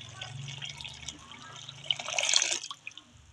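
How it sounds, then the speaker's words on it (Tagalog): Water pours and splashes into a container while making durian ice candy, a brief liquid rush swelling and then trailing off. "Lagyan din natin ng tubig."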